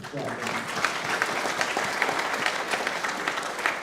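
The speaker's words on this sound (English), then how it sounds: "Round of applause for that" A crowd applauds throughout at a college signing day ceremony, with steady clapping held at a moderate level and a few sharper claps standing out.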